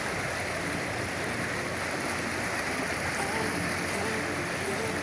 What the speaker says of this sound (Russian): Река здесь такая под названием Орто-Сала течет.